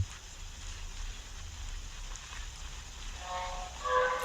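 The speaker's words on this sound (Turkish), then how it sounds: "O yağmur yağmur efektleri güzel olmuş bu arada." Rain effects from the Granny 3 rain mod horror game make a steady, soft hiss of falling rain throughout. A faint tonal sound rises near the end.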